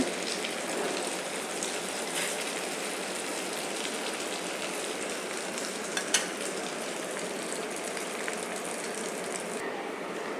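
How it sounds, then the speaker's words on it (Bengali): Quail eggs fry on low heat with a continuous, even crackling sizzle, close and steady throughout, broken only by a couple of small clicks near the middle. "লো হিটে ভাজতে হবে বেশি আছে ভাজা যাবে না তাহলে নিচে পুড়ে যাবে ভিতরে কাঁচা থাকবে"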